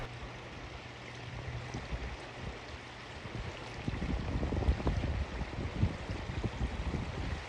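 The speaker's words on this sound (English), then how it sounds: "So this is the Russian River." Water of the Russian River flowing and gurgling in a steady, close rush, growing louder and rougher midway through.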